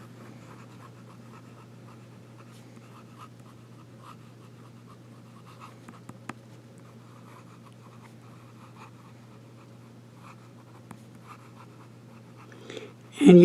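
The nib of a Parker Duofold Centennial Big Red fountain pen writes on paper in reverse, faint scratchy strokes at an irregular pace over a low steady hum, with a sharp louder knock at the very end.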